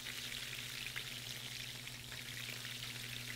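Garlic and lemon peel sizzling in a pan, a steady close hiss of frying with a faint low hum underneath and no talking.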